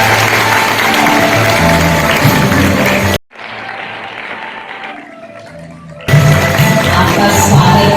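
Audience applause at a Kalpataru tree-planting campaign event: loud, dense clapping from a large crowd that drops away abruptly for a few seconds, then comes back just as strong.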